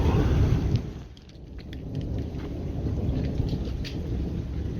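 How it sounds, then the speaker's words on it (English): Low, rumbling thunder rolls continuously in the distance, with rain pattering and a few sharper drips over the steady roar. "This is just constant thunder."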